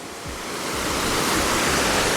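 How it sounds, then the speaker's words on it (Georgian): A waterfall on the road to Kvasaqdara in Baghdati roars as a loud, steady broadband rush of falling water that builds slightly and then holds, with no voices. "ეს ჩანჩქერი კი ქვასაყდარას გზად არის."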